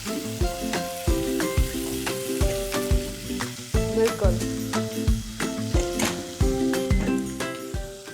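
Tempering (vaghar) for bisi bele bath sizzles and fries in a pan, with clinking stirring strokes in a repeated rhythm. A voice speaks briefly over it.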